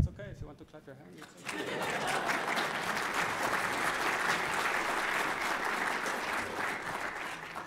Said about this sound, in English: it's okay if you want to clap your hands.